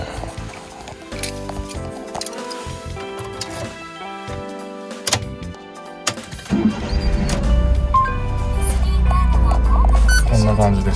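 A Honda Acty kei van, a 4WD five-speed manual with its engine mounted behind the front seats, starts up midway through and settles into a loud, steady low idle after some clicks and rustling.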